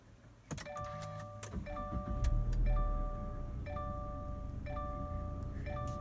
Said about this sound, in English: starting the car is simple. All you have to do is put your foot on the brake, and you're gonna push the lit button there.